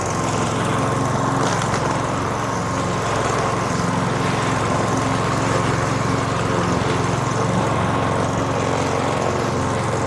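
A lawn mower runs steadily in a French farmhouse garden, its small engine droning close and constant throughout with no pauses or voices.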